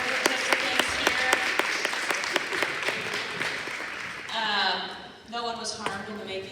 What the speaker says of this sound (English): Give us a big round of applause for all of our coordinators and participants here.